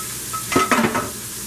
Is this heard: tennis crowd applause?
no